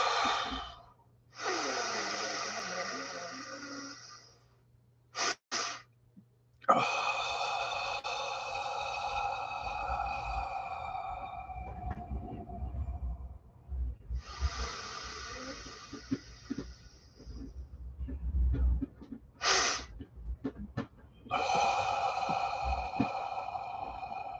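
Long, slow exhales during a guided breathing exercise, several drawn-out breaths separated by brief pauses, close and breathy with no talking.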